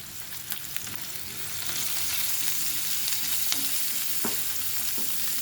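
Sliced onions sizzling in a pan with salt and turmeric, a steady close frying hiss that swells after a moment, with a few soft clinks and stirring scrapes.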